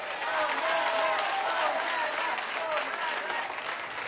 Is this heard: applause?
yes